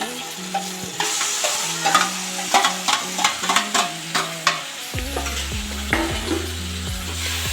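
Eggplant pieces stir-fried in a pan of hot oil with cooked-down tomatoes, a steady sizzle broken by repeated scraping stirs and clatter of a spatula, close and fairly loud, with no talking.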